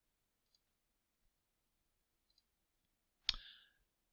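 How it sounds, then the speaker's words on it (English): A single crisp mouse click near the microphone in a quiet room, preceded by a couple of very faint ticks. "you then click the save button."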